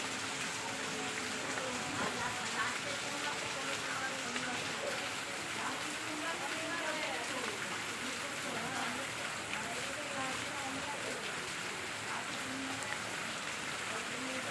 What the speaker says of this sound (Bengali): আজ সকাল থেকে খুব বৃষ্টি হচ্ছে